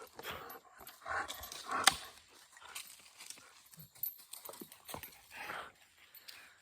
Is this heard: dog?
yes